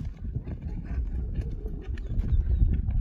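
Horse hooves step and clop close by at a horse market, a low irregular walking rhythm under steady ambient noise, with no voices over it.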